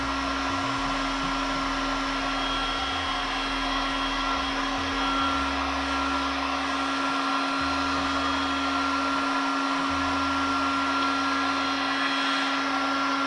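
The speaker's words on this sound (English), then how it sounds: "this is quite a cheap Chinese hot air gun" Steady, loud whooshing roar of a cheap 1600-watt hot air gun blowing continuously while warming Scalextric track, with a low motor hum fluctuating underneath and no talking.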